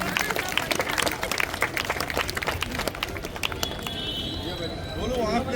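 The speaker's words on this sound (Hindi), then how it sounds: "एक बार हमारे डॉक्टर साहब के लिए जोरदार ताली बजाइए।" A crowd at a Guru Ghasidas Jayanti gathering in Rajnandgaon claps for a doctor, the applause rattling on continuously at moderate distance while a voice talks over it.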